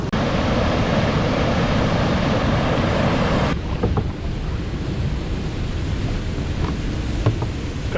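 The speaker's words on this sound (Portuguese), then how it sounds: "Mais uma cachoeira aqui na frente." A waterfall on a river in Temagami, Canada, rushes loudly in a dense, unbroken roar heard up close. The level dips slightly partway through, as if the microphone shifted, and no one talks.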